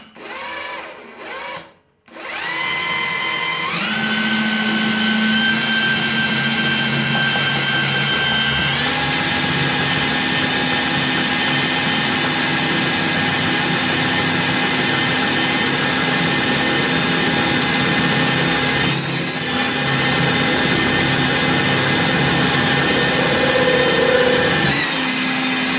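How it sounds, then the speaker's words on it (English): A POWERFIX drill stand drills into metal: a motor starts after a short pause, then runs as a steady loud whine for over twenty seconds, its pitch stepping up and down as the bit cuts, with no talk. "Maybe you want some lubricate and start drilling."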